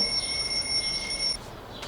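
A mobile phone ringing with a bright, high electronic trill, steady and fairly close for over a second before stopping abruptly, leaving quiet room noise.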